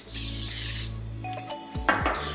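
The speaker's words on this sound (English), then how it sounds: "take my oil sheen and spray my hair to give it a little shine" A continuous hiss from an aerosol oil sheen spray on hair lasts about a second, followed by a few soft handling clicks and rubbing sounds nearby.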